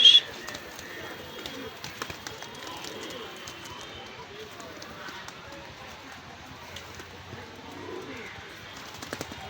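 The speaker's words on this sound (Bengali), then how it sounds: "খুলনার বিখ্যাত গলায় লাল কবুতর, বিগ সাইজের কবুতর" Pigeons coo softly at a pigeon market at Gollamari, Khulna, a low murmuring backdrop of birds under a voice and light crowd bustle.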